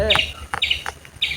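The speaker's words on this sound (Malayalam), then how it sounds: "ഓരോ കിളികൾ വന്ന് ശബ്ദം ഉണ്ടാക്കുന്നതാണ് ആ കേൾക്കുന്നത്" Bright, high bird chirps in a vegetable garden come in three short bursts, each a quick cluster of tweets, close and fairly loud with brief pauses between.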